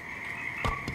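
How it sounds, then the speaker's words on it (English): A frog in a Princess and the Frog video game gives a croak, two short low bursts over a steady electronic game tone. "Where'd that frog go?"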